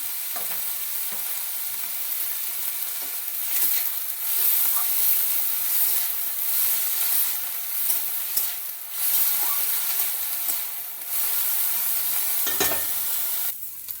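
Shredded cabbage fries in a pan with a continuous close hiss, and a spatula scrapes and stirs through it every few seconds, no voices heard.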